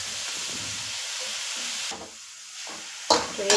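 Chopped bottle gourd stirred in ghee in a pan, a steady soft sizzle and scraping under the stirring, with a few brief louder clatters of the spoon near the end.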